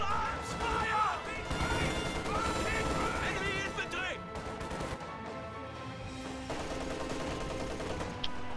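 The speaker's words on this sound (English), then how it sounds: "Flak half track firing on them as they retreat." Flak half-track firing on retreating units in Company of Heroes, a dense battle mix of repeated gunfire and crashing impacts running throughout under other combat noise.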